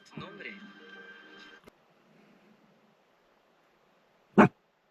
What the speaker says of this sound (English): She's got her alarm bark going off.